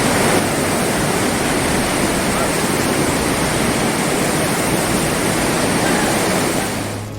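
Floodwater of the swollen Punnapuzha river in Wayanad rushes after heavy rain, a loud, dense, unbroken roar close by that fades slightly at the end, with no voices.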